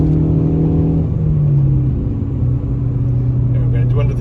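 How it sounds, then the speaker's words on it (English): A Ford Focus ST with a Borla S-Type exhaust drives along, giving a steady, loud low engine drone whose pitch shifts slightly as the car moves, continuous throughout. "Only clanking you hear is the exhaust in the back."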